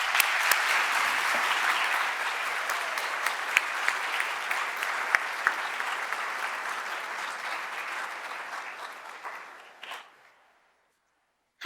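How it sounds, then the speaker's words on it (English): A crowd applauds the co-chairs at the 2020 Emory Law School Inspiration Awards, with sustained full clapping and a few sharp individual claps standing out. It tapers off around ten seconds into near silence. "Please give them a round of applause."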